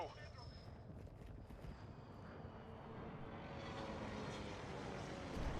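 A Harrier jet killstreak flying overhead in Call of Duty: Modern Warfare II, a faint steady aircraft engine drone that swells slightly, with talking over it.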